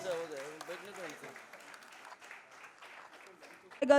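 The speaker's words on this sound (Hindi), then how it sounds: "Applauses for the wonderful moment." Audience applause at the PHDCCI Global Film Tourism Conclave, a faint, thin patter of clapping from a seated crowd that follows a voice speaking at the start, with a louder burst near the end.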